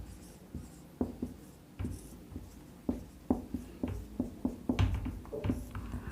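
Chalk or marker scratching and tapping on a board during a Class 9 probability lesson, a quick run of short strokes at close range with no talk over them.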